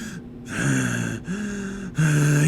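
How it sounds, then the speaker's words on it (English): Dark Helmet in Spaceballs breathes heavily through his giant mask, loud close rasping inhales and exhales in a steady alternating rhythm of about four strokes. "we hear him breathing, like, super hard"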